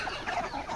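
Desi gavthi chickens and breeder birds on a poultry farm cluck softly and continuously, a low fowl chatter close by with no voices.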